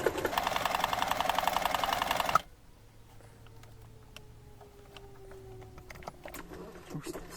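A sewing machine stitches fabric for a children's mouse-shaped bag in a fast, steady mechanical rattle for about two seconds, then stops abruptly, leaving a quiet room with faint clicks and light handling noises.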